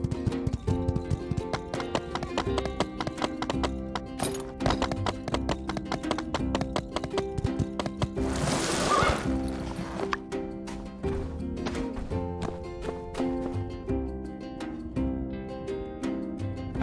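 Horse hooves clip-clopping in the video game My Time at Sandrock, a quick steady trot of sharp taps over game music, with a brief rushing swell midway.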